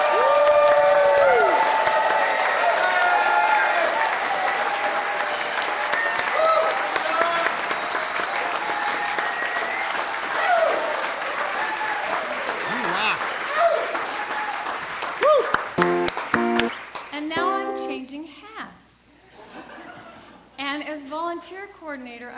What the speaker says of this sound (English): I would like a round of applause that is so much shows our appreciation that the children can hear it.